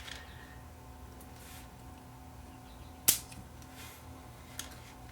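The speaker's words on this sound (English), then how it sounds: "watch what happens if I short this. It'll just make this, it'll make this solder explode." A shorted lead acid battery from a faulty Tripp-lite Omni900LCD UPS makes solder explode, a single sharp snap-crack standing out from a quiet hum, followed by a fainter tick.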